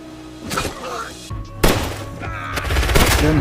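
A burst of loud gunshots as a sound effect, several sharp cracks and thuds in quick irregular succession with a rattling, almost machine-gun edge, close and harsh.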